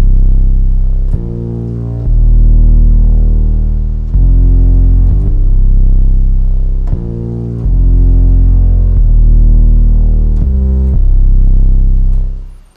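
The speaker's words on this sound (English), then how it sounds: "put together an 808 style bass sound in Ableton" An 808-style bass synth built in Ableton Live's Wavetable plays a loud, deep, distorted bassline of sustained booming notes with sharp attacks, pitch changes and short gaps, alone without any voice.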